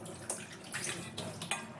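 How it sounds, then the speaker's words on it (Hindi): Water runs and splashes through a tea strainer after brewing tea, a quiet trickling with a few brief gurgling bursts at close range. "तो हमें चाय के बाद इसमें ऐसे पानी चलाना है"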